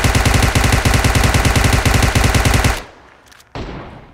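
Rapid automatic bursts from a UMP submachine gun fired from the hip in PUBG Mobile, loud and close, a steady rattling stream for nearly three seconds before cutting off, followed by a brief quieter echo and a faint late thump.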